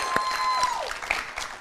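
A brief burst of studio audience applause on a Kazakh late-night talk show, moderately loud and steady, with faint whistles and a voice in the background.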